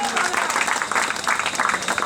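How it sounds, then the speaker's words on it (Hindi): Applause from an audience at a felicitation ceremony honouring guests with garlands, a dense continuous patter of many hands, fairly close, with voices mixed in. "जोरदार तालियों से हम लोग"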